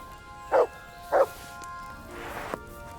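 A dog barks twice in Kingdom Come Deliverance 2, two short, fairly loud woofs about half a second apart, followed by a fainter scuffling rustle and a brief knock.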